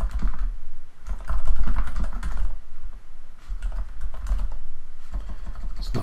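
Rapid keystrokes on a computer keyboard come in steady bursts with brief pauses, fairly close and clear, with no talking over them.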